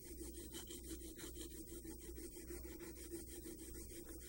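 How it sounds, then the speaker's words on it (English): A knife blade drawn back and forth across the fine side of an oiled sharpening stone, steady continuous rasping strokes, close but faint, with no voices. "just take your knife and just rub it back and forth on this fine side of the stone"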